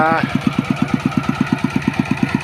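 A small engine-driven pump draws water out of a fish pond. The engine chugs close by in a fast, even beat of regular low thumps that runs steadily throughout.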